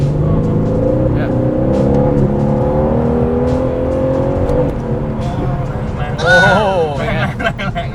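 Aston Martin DB11 engine pulling hard after a downshift, a rising revving drone heard from inside the cabin, with people talking over it and a brief higher whine near the end.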